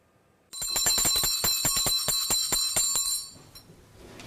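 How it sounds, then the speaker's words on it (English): An old hand bell from a one-room schoolhouse rings in a rapid, steady run of bright metallic clangs for about three seconds, close and loud, then its ring fades away. "she would ring this bell"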